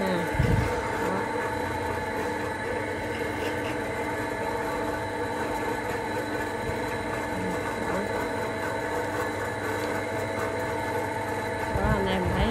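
A Japanese-market Toshiba bench drill press, 100V, fitted with a 13 mm bit, runs with a quiet, steady motor hum, while someone talks over it.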